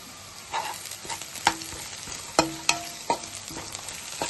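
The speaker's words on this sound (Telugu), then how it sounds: "1 స్పూన్ అల్లం వెల్లుల్లి పేస్ట్ వేసుకుని వేసుకోవాలి." Ginger garlic paste frying in hot oil for an aloo methi curry, a steady sizzle broken by several sharp spatula knocks against the pan.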